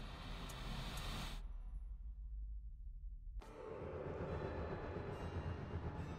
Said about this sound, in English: My Lizzie, what is this train's destination?